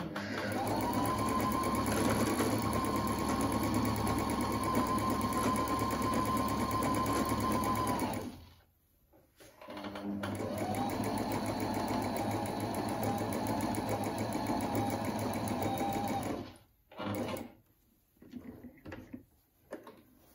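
A Husqvarna 230 electronic sewing machine sews a blind stitch, running loud and steady for about eight seconds. After a short pause it runs again for several seconds, then gives a few brief bursts.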